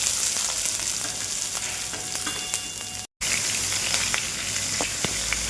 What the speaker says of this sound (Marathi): जिरं हा कांदा परतून घ्या चांगला